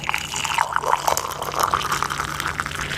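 Hot water poured into a cup makes a close, steady splashing pour with bubbly trickling, continuous for about three seconds with no voices.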